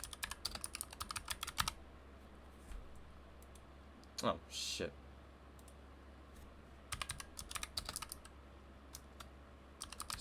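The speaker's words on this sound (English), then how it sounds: "I'm typing over all my Blu-rays" Bursts of rapid typing on a computer keyboard, close and fairly quiet, come at the start and again near the end, with a short spoken exclamation in the middle.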